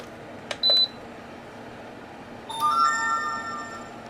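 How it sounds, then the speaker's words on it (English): An electric space heater switched to high, with a short sharp relay click and a chiming tablet notification right after, then a layered electronic tone rising near the end over faint steady fan hiss. "On high, there was a relay that clicked, and the tablet had a notification at the same time."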